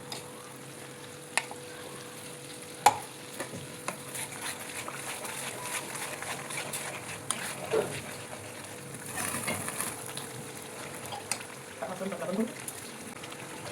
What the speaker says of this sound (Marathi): याला आपण चांगलं भाजून घेऊ